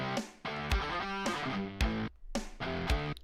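A fuzz-distorted electric guitar riff generated by the Riffler app on iOS plays as choppy, rhythmic chords with sharp attacks and abrupt stops. It is loud and close, with no voices.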